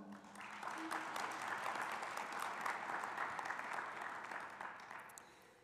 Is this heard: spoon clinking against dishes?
no